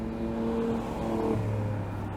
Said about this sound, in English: I'll leave the camera outside so the camera can pick up some of the exhaust sounds too